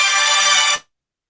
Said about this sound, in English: Yeah, his phone went off.